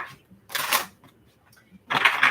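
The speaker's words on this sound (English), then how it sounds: "All right, final shuffle." A tarot card deck is shuffled in two short riffling bursts separated by a quiet pause, close and crisp with no talk.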